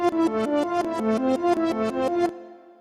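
Reversed Roland Jupiter 6 synth intro for an animated show's theme, a rising-swelling arpeggio pattern of repeated notes that each fade in and cut off abruptly, about ten pulses, then silence.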